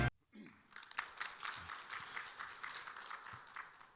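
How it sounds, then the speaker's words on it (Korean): At a 2023 rural revitalization symposium, an audience gives soft, steady applause as the mayor of Gongju, Choi Won-cheol, is welcomed to the stage. A brief burst of sound precedes the fairly quiet, sustained clapping. "무대 위로 모실 때 힘찬 박수로 환영해 주시면 감사하겠습니다"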